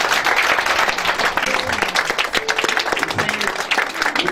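A church congregation applauds and cheers steadily in a reverberant hall, the clapping dense and continuous while voices call out over it.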